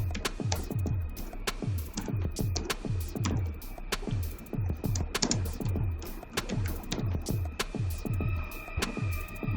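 Rapid, uneven clicking of computer keys, a steady run of close keystrokes with brief pauses, no voices.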